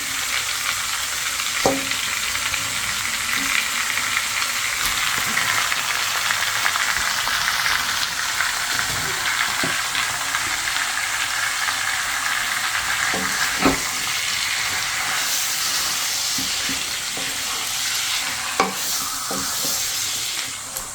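Chicken pieces frying in butter give off a loud, steady sizzle close up, broken now and then by stirring scrapes and light taps of a utensil against the pan.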